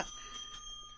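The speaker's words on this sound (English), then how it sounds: "More bells coming in." A brief bright ring, like a small bell, cuts in once and then sustains a high tone over a low hum from a radio studio.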